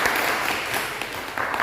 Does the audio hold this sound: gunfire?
no